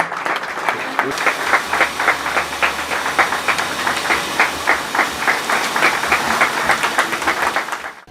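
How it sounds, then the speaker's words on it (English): An audience at a sustainability report launch applauds, a dense and continuous round of clapping that holds steady and fairly loud for about eight seconds before cutting off, with a low hum underneath. "A round of applause, ladies and gentlemen"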